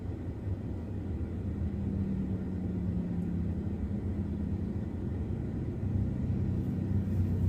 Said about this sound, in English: And this car is so freaking loud.